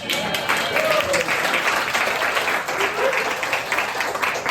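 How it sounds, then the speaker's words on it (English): Audience at a fringe festival panel applauding, a steady dense wash of many hands clapping at close range that holds at an even level throughout, with faint voices mixed underneath. "So applause to us."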